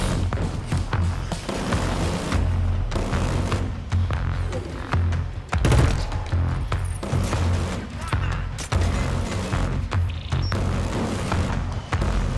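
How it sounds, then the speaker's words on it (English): Heavy gunfire in Killzone Shadow Fall on max difficulty, a dense, continuous barrage of shots and booming impacts rolling throughout, loud and busy with a few sharper bursts. "who's shooting at me?"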